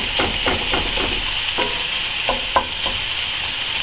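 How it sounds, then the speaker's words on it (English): Chorizo and onions are stirred and broken up in a frying pan: a steady close sizzle with several distinct spatula scrapes and taps at irregular intervals, and no voices. "I just keep working on breaking it up and stirring it into the onions"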